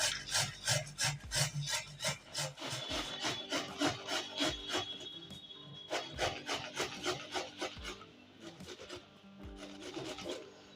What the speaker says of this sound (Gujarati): આપણે એને આખી ઘસી નાખવાની છે